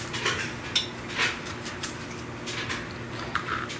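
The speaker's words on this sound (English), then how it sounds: "I'm gonna slice up some strawberries" A knife slicing fresh strawberries thinly on a cutting board, giving soft irregular taps and cuts close by, with light clinks of utensils and no talking.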